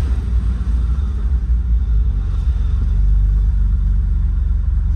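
Steady low rumble of a BMW M5 engine on a quick drive, heard close from inside with a constant heavy drone and no voices.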